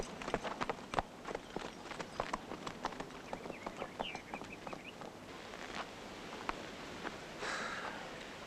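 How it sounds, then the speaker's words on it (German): Horse hooves clip-clop steadily on a hard surface at a walking pace, fairly close, with faint outdoor ambience and no talking. "Schmucke Stute, die der Baron da zureitet."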